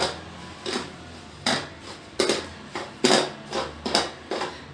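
Bulgur is stirred with spice in a bowl for çiğ köfte, a series of sharp, separate clacks and scrapes of a utensil against the bowl coming every half second or so.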